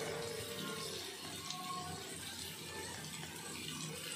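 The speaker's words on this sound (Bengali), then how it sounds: "একটু পানি দিয়ে দিলাম সামান্য।" A small splash of water is poured into a pan of frying onion masala, giving a faint, steady watery hiss and light clattering that continue quietly throughout with no talk.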